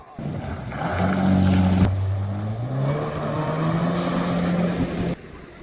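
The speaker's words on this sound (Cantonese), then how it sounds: "之後我哋玩咗水上電單車。" A jet ski engine runs on open water at an Okinawa beach on a windy October day, a loud, steady motor drone that rises and shifts pitch as it accelerates, then cuts off sharply near the end.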